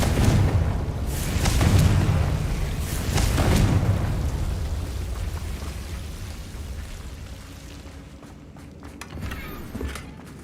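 Confringo blasting curse explosion in the Hogwarts Legacy video game: a loud booming blast with crackling debris, then a second surge, fading into a quieter rumble that swells briefly near the end.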